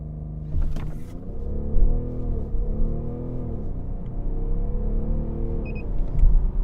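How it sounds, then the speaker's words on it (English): A BMW 750Ld launches from a standstill in sport mode using launch control, its engine rumbling and climbing through rising tones with audible gear changes, heard steadily from inside the cabin. "put the gearbox into sport, we're standing still, and now we do a launch"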